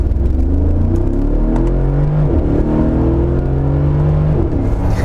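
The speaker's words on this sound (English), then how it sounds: "you can just hear the V8, you know, with the quad exhaust" Deep, steady rumble from the quad exhaust of a Mercedes-Benz G63 AMG V8, heard close and loud with slow rising engine tones as it pulls away. No voices.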